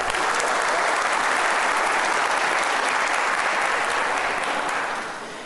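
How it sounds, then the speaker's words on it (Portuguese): Sustained audience applause fills a solemn session of the Espírito Santo state legislative assembly, a dense, even wash of many hands clapping for about five seconds before tapering off at the end, with no speech over it. "Uma salva de palmas."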